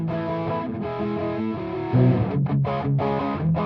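A distorted, mildly saturated electric guitar plays sustained chords, with a brief louder strum near the end and choppy gaps.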